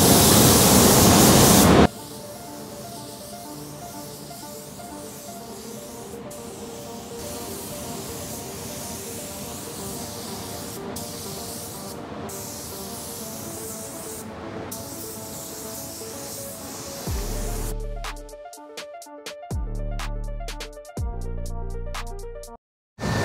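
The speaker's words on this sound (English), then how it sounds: "that was the sealer, and that is the ECS PPG sealer. And I sprayed it at about 20 PSI" Close and loud, a spray gun with a PPS cup lays down PPG ECS sealer at about 20 PSI in a steady broad hiss lasting around fifteen seconds, followed by clicks and handling noises.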